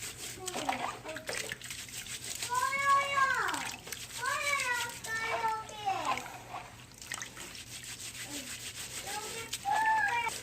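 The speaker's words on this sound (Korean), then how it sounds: "이렇게 이렇게 양손으로 비벼주면은 음, 하얀 가루가 많이 있기 때문에 많이 하얀 가루가 많이 터져 나옵니다" Hands rubbing malt in a bowl of water to make sikhye, producing soft wet swishing and rubbing noises while someone talks over them.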